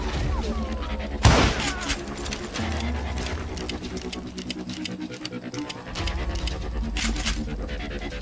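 Gunfire in the Western shooter Call of Juarez Gunslinger, a sharp loud blast near the start followed by scattered shots and thuds over a dense game soundscape.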